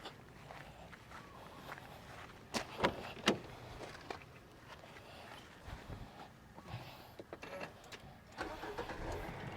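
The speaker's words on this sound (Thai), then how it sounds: "เดี๋ยวผมจะสตาร์ทเครื่องยนต์นะครับให้ท่านผู้ชมได้ฟังเสียงเครื่องยนต์กันดูครับ" A 2012 Nissan Teana 2.0 200 XL engine cranks and turns over amid clicks and footsteps, then settles into a low, steady idle, fairly quiet and close.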